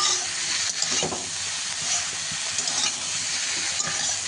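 Cut mushrooms frying in a pan, with a constant close sizzle, hiss and spatter broken by a few soft stirring clanks and scrapes, and no voices.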